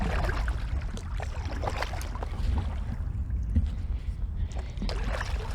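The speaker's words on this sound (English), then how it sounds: "A little bit windier over here." Wind gusts over open water as a canoe paddles upwind, a rough, uneven buffeting hiss and rumble near the microphone, mixed with faint splashy knocks, with no talking over it.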